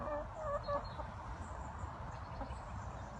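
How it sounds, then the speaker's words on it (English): Pet chickens with tan feathers and red combs cluck in a low, continuous chatter near their coop, with a few brighter calls early on amid soft rustling. "These are the chickens."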